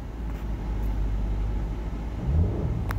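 A 2017 Subaru Outback engine idles with a steady low rumble, then rises in a short rev near the end before settling back, heard up close with no talking.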